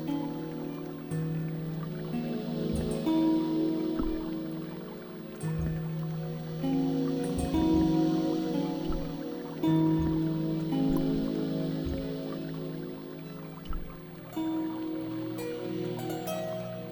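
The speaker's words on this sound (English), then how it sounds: "I held the towel under the faucet and soaked it with water." Steady running water from a faucet soaking a towel in the Broken Sword adventure game, a continuous trickling wash laid over a tonal music bed, no voices.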